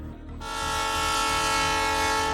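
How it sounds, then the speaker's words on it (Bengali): A train whistle starts after a brief moment and holds as a loud, sustained tone while the train begins to move. "হুইসেল দিয়ে ট্রেনটা ছেড়ে দিল"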